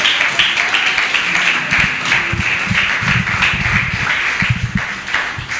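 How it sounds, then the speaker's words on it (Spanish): A church congregation claps loudly in a dense, steady burst of many hands, with the crowd sound filling the room throughout. "Dale palmas fuertes a ese Dios maravilloso."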